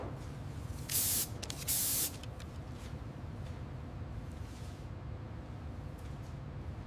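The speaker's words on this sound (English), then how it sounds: "starting with a precise, even mist of the historic French racing blue" A spray gun mists historic French racing blue paint onto a 1937 Peugeot 402 Darl'Mat in a workshop, giving two short, loud bursts of hissing spray over a faint, steady background hiss.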